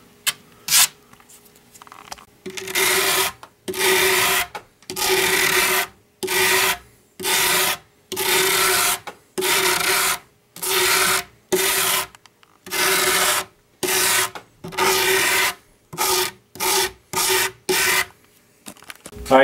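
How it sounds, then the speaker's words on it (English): Rhythmic rasping strokes rough up the surface of a form for a mannequin, a long series of close, loud scrubbing passes with short pauses between them. "So I'm going to rough the whole surface up, and then I'll brush it all down."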